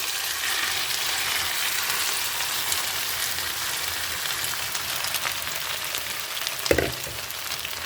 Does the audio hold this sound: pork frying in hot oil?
yes